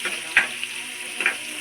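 Onion frying in hot oil for spicy momos sizzles loudly and closely, with two sharp stirring clacks of a utensil against the pan over the constant crackle.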